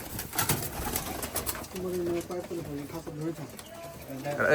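Pakistani flying pigeons coo in a loft, their low, repeated throaty calls rising and falling through the latter half while voices talk nearby.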